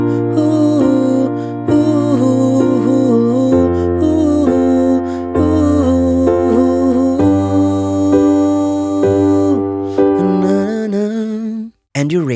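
Easy piano arrangement of a song, played as the 'ooh' section: steady sustained chords with a melody line on top, loud and close, with no voices, ending in a brief stop.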